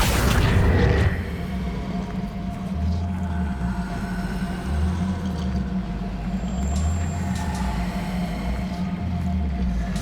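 In Hogwarts Legacy, a Confringo blasting spell goes off as a single loud, booming explosion at the start. It quickly dies into a low, steady rumbling drone with soft, pulsing swells beneath.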